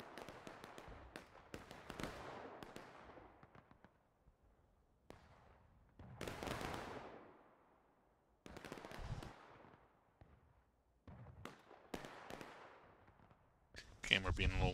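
Musket volleys ring out in War of Rights, a Civil War-era shooter on a wheat field map: several loud, ragged bursts of massed gunfire separated by pauses, with shouted commands between the volleys.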